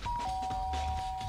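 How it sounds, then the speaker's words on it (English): A doorbell in the video game Danganronpa: Trigger Happy Havoc gives a clear electronic chime, a steady sustained tone that shifts pitch slightly early on, heard alone over a low background hum. "I pressed the doorbell."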